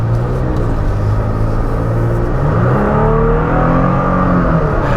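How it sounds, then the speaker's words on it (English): A 2021 Toyota Tacoma Limited 4X4 pickup accelerating to merge into traffic, its engine droning loud and close with a rising, revving pitch and constant road rumble, no voices. "let's see the acceleration and merging into traffic"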